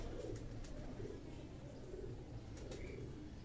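Soft low cooing and faint chirps from a high-flyer pigeon chick, steady and close, with a constant murmur of background noise.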